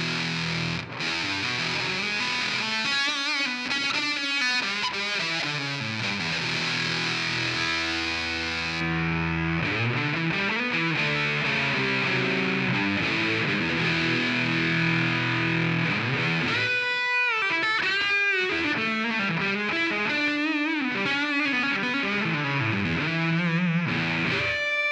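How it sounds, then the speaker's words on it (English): A heavily fuzzed electric guitar, played through a V4 Copper preamp and V1 Duchess pedal, plays chords and riffs with thick, buzzing distortion, loud and sustained throughout with no talking. "take a fuzz that is maybe a little bit harsh and a little bit unpleasant through our V4 copper preamp"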